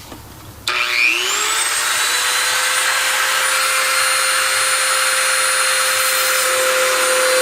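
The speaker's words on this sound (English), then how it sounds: "So the router attachment has an adjustment right there that you can slide it up and down" Router attachment cutting lettering into a tombstone: after a brief quiet start the motor spins up with a rising whine, then holds a loud, steady high-pitched scream with a constant tone as it cuts, close and without talk.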